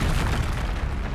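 A spell effect from the Hogwarts Legacy video game, Expelliarmus cast near an encampment, lands as a loud, dense booming burst that holds steady across its whole second, with no talk over it.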